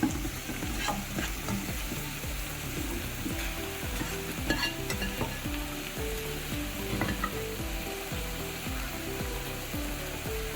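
Chicken and vegetables being stir-fried for Chinese-style chicken noodles, a steady close sizzle with a rhythmic scraping and clacking of the spatula stirring the pan throughout, and no talking.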